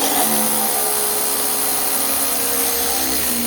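A Masterforce hydraulic impact driver drives larger screws, running loud and close with a steady, continuous high whine that never stops the whole time.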